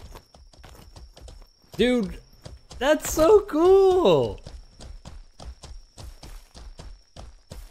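Horse hooves clip-clop at a steady walking rhythm in the online game Mortal Online 2, with a speaking voice and a brief laugh in the middle of the passage.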